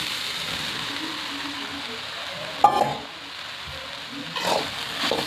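A soya chunk (meal maker) curry with garlic sizzles in a pan as it is stirred, a steady close frying hiss broken by a couple of brief scraping stirs.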